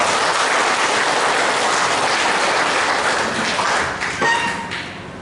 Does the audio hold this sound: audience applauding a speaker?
yes